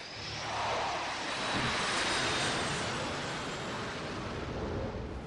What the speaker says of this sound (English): Landing the F-18 Hornet can make even the most seasoned veterans break a sweat.